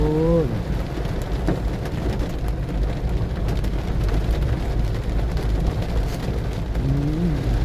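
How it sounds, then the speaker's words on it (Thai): Heavy morning rain pours down steadily, a dense, continuous hiss of drops striking surfaces close by, with a faint vehicle hum drifting in at the start and end. "วันนี้ฝนตกต้อนรับตั้งแต่เช้าเลย"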